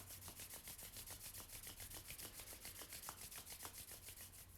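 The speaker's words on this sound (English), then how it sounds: "just start to rub the palms together," Palms of two hands rubbing briskly together in a quiet room, a steady run of soft, rhythmic swishing strokes, close and gentle, with no talking.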